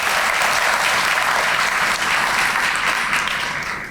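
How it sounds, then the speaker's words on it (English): Loud, dense applause from an audience at a police district community relations awards ceremony, sustained steadily and tapering slightly toward the end. "Give her another round of applause."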